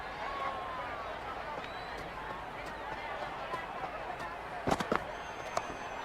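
A stadium crowd in the cricket game Cricket 26 keeps up a steady roar of cheering, with a few sharp claps or pops near the end and a commentator's voice underneath.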